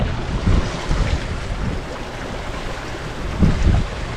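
A boat moving out of port on the Balearic sea, steady wind and wave wash across the whole stretch, with a few louder gusts or water thumps, no voices.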